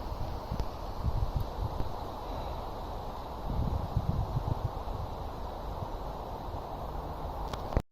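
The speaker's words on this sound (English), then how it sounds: "Oh, it's so windy." Gusty wind buffets the microphone beside the Grand Union Canal with low rumbling bursts, rising and falling, with faint rustling in the background.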